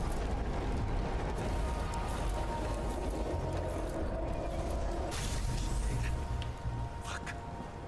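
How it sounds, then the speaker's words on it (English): In the video game Nobody Wants to Die, a lock mechanism is reconstructed with a dense, steady grinding and whirring of turning parts. Faint clicks and creaks come through, with a brighter rising sweep near the end. "We have to reconstruct the lock."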